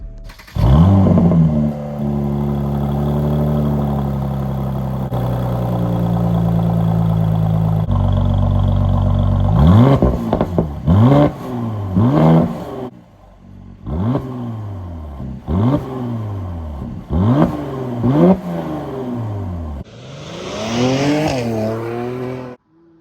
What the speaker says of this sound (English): So obviously they weren't the best flybys you've heard